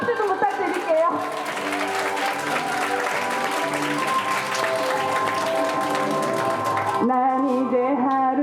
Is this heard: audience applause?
yes